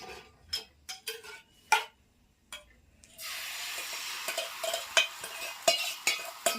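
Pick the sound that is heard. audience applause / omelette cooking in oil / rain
omelette cooking in oil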